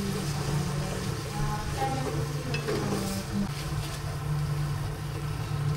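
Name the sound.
tomatoes cooking in a pan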